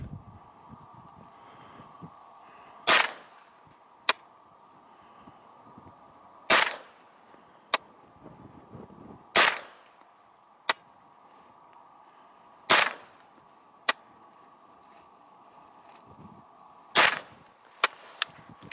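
A CMMG MKG firearm fires a series of sharp, loud shots at a paper target outdoors, spaced irregularly a few seconds apart with some quicker pairs, over faint wind noise.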